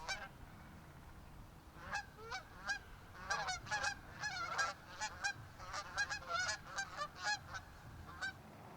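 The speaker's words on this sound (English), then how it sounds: "Hello, geese." A flock of geese honks repeatedly and fairly close, overlapping calls in bursts over low background rumble.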